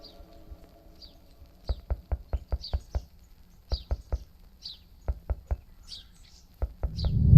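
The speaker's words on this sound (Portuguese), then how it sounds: "tem um barulho de pássaros vindo de algum lugar na sua esquerda" Small birds chirp in short, repeated high tweets in a Courage the Cowardly Dog video game, alongside bursts of quick, evenly spaced knocking clicks and a rising rumble at the end.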